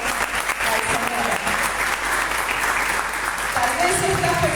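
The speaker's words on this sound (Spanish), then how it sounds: "Dale un fuerte aplauso al Señor." Church congregation clapping loudly and steadily, a thick continuous roar of hands with cheering voices rising near the end.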